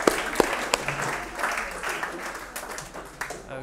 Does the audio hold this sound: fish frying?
no